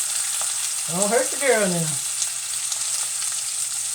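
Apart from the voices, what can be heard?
grease frying and popping in a pan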